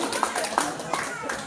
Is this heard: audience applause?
yes